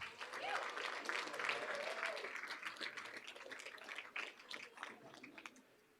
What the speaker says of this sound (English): Another huge round of applause for all these outstanding schools and their staff.